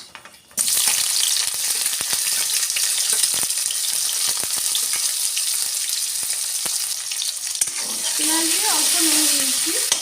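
Chopped onion hits refined oil with whole spices and breaks into a loud, continuous sizzle after a brief quiet start, with scraping stirs near the end.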